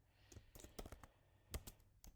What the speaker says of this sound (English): Excuse the typing here.